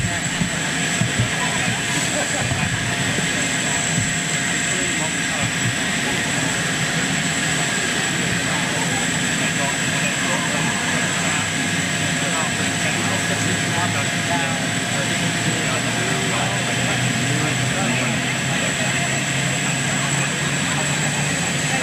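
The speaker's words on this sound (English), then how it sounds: "we love the sound of airports" Jet engines drone steadily with a high, sustained whine, a continuous roar from aircraft nearby at Heathrow Airport, including a British Airways Boeing 747 jumbo jet.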